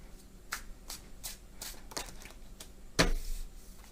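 Playing cards are shuffled several times in quick riffles, soft and close, with a sharper snap of cards near the end.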